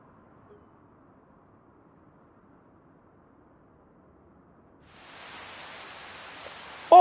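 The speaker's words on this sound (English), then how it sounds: "And it's raining." Rain in the video game Kinlaig, near silence before a soft hiss of falling rain rises and holds over the last couple of seconds, ending in a short sharp burst.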